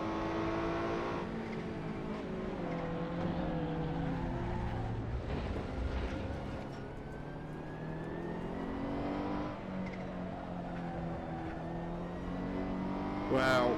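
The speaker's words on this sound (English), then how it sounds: "a little bit of drift with the Ferrari is not a good idea" A Ferrari GT3 race car in a racing video game drifts through corners, its engine revving and droning with shifting pitch throughout, while someone talks over it.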